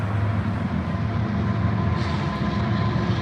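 A train passes nearby in a city, giving a loud continuous low rumble with rolling rail noise, steady throughout.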